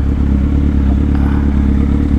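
A Kawasaki Z800 motorcycle rumbles steadily and loudly from its exhaust while riding, a dense, continuous low engine drone with no break.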